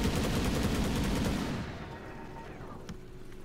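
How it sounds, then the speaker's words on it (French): A flak cannon ability fires in a Dota 2 match, a dense loud burst of rapid gunfire-like shots that cuts off sharply after about a second and a half, leaving a quieter game backdrop. "Qui va activer son coup de flak canon."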